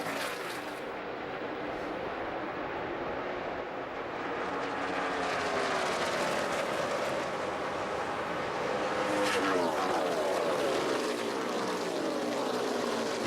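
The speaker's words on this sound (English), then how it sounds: "Roaring around the outside of turn 2 in that neon car number 27" NASCAR stock car, the neon number 27, roars loudly around the outside of turn 2 at Kansas Speedway, its engine drone sweeping in pitch amid steady broadband crowd and track noise, with other cars audible throughout.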